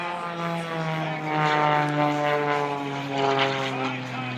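Propeller aerobatic airplane at an air show, diving toward the ground and pulling back up, its engine drone steady and fairly loud with rising and falling swells.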